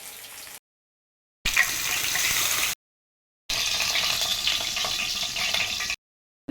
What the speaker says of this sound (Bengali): এইভাবে উপর থেকে একটু তেল দিলে উপরেরটাও বেশ সুন্দর করে ফ্রাই হবে